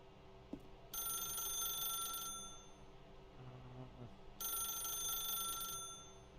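Telephone ringing in the video game The Stanley Parable Ultra Deluxe, two bright electronic ring bursts separated by a short gap over a quiet ambient background.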